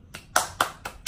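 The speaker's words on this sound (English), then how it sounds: "Hand claps." Four distinct hand claps in a quick, slightly uneven rhythm, close and crisp against a quiet indoor background.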